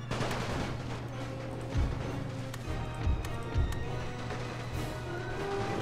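Cavalry horses galloping in a World War I strategy game, rapid hoofbeats blended with steady rifle and machine-gun fire and occasional heavy thumps.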